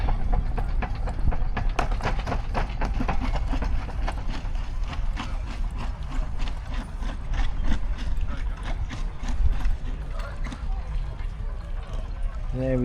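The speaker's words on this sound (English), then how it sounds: "Fowler 3 horsepower petrol TVO engine. It would be running a threshing mill." A Fowler 3 horsepower petrol TVO stationary engine runs at a steam rally, a steady rhythmic chuffing and knocking beat over outdoor background noise.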